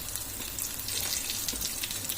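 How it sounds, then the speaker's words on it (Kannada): Garlic cloves frying in hot oil for a mutton kaima ball sambhar, a dense, hissing sizzle that holds steady and close throughout the short stretch, with no talking. "ಎಣ್ಣೆ ಬಿಸಿ ಆದಮೇಲೆ ಬೆಳ್ಳುಳ್ಳಿ 2 ಗೆಡ್ಡೆ ಬೆಳ್ಳುಳ್ಳಿ ಹಾಕೊತಾ ಇದ್ದೀವಿ"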